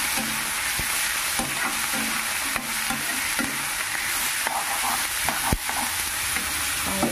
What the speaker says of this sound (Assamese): প্ৰথম কলৰ দিলখিনি অলপমান ভাজি ল'ম ইয়াতে